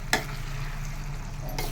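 Gongura leaves frying in a turmeric tempering on a stove at low heat, a steady close sizzle with a sharp stirring scrape at the start and another near the end.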